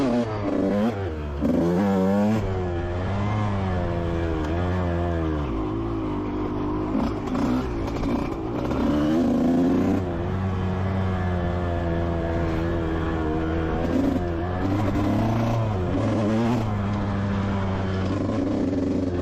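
A 125cc motocross bike ridden for fun on a dirt track circuit, its engine droning steadily and rising and falling in revs with moderate throttle, close and continuous throughout with no talk.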